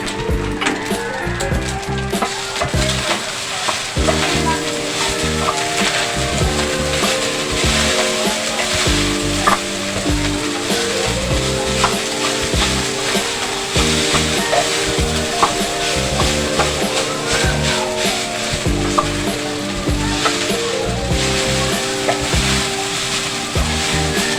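Garlic fried rice being stir-fried, a loud continuous sizzle with steady scraping and tossing of the spatula through the rice, close and without talk.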